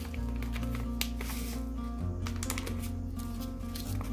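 Black chia seeds shifting inside a flimsy resealable plastic package give a quiet, continuous crinkling and rustling with small rattling bursts as the bag is handled close by.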